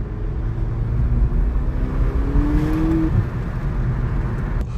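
The engine of a 2019 VW Polo GTI accelerates, a steady rising drone heard from inside the cabin over road rumble, with no voices.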